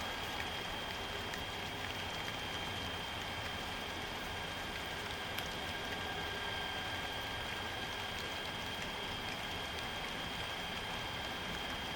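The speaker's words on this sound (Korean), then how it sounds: "지금 비가 오고 있어갖고," Steady rain falls over a pear orchard in Naju during a typhoon period, a constant soft hiss that fills the whole stretch evenly at a moderate distance, with no talking.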